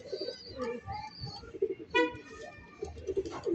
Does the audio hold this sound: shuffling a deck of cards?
no